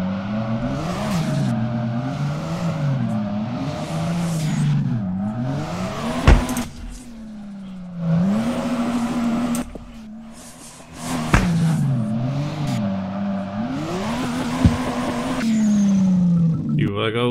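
A BMW E46 with a 2JZ engine drifts in the game DRIFT21, its engine revving and bouncing off the limiter in a continuous wavering drone, with tire squeal and occasional sharp knocks, someone speaking over it.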